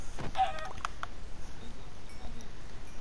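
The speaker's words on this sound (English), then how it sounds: "there's chickens" Chickens clucking on a farm in the Minecraft video game, a few short close clucks and squawks near the start that fade into quiet background game ambience, with no speech.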